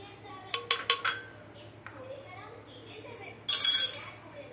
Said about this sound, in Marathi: असं चांगलं ढवळून घ्यायचं